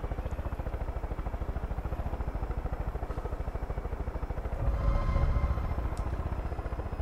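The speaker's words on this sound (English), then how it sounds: "Oh, there's a chopper after us." A helicopter chasing players in the video game Far Cry 5: a steady, rapid rotor chop pulses throughout, swelling louder for a moment near the end.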